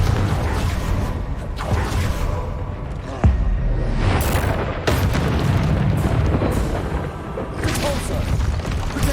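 Confringo fire spell explosions in Hogwarts Legacy, loud repeated booms and whooshing blasts over dense, continuous combat noise, with sharp impacts around the third and fifth seconds.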